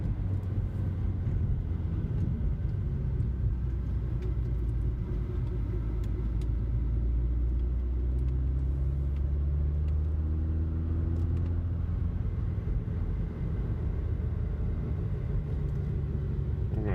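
A budget car's engine drones steadily up and down a twisty road, with low revs rising and falling through gear changes and corners. It is close and continuous with no talk.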